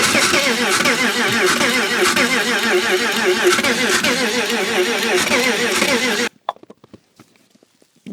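A BMW left standing for five months in -26°C cold cranks with a loud, rapid, rhythmic churning from the starter for about six seconds, then cuts off abruptly, followed by a few faint clicks and knocks.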